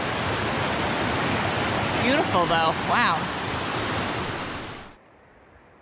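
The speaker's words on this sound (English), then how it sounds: "There is another not insubstantial waterfall and then another one after it" Broad, steady roar of a substantial waterfall tumbling down a granite mountain slide on Owl's Head, with a person speaking briefly over the rushing water before it cuts off abruptly.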